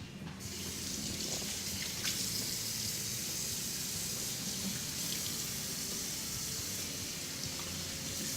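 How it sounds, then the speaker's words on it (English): Tap water runs steadily into a sink during handwashing in a home kitchen, a continuous close hiss and splash holding even in level from start to finish, with no talking. "the number one thing we have to do is wash our hands."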